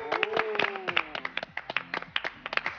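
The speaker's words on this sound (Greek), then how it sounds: "Αγγελική, θα σε χειροκροτήσω." A person claps their hands in a quick, close run of sharp claps, with a voice speaking over the first part.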